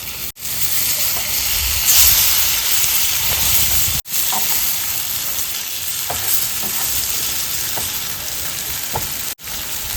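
Ayala mackerel frying in a pan on a low flame, a loud, steady close sizzle with scattered pops and crackles, briefly broken by short gaps.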